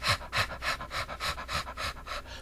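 Rapid, rhythmic kapalabhati breaths in a yoga class come about four per second as sharp, forceful exhales. They are close and evenly paced, with no talking.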